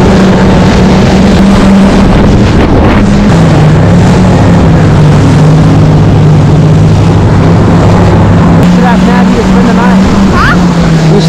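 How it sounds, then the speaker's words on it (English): A loud, droning jet ski engine runs steadily close by on a lake, its pitch shifting slightly, with heavy wind rumble and splashing throughout. "now I'm gonna go on the jet ski"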